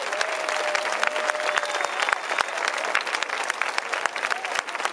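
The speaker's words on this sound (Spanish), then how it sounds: "Un aplauso para los chicos." A crowd gives loud, sustained applause after an acrobatic tango performance by a dance company, with dense clapping and some crowd noise carrying throughout.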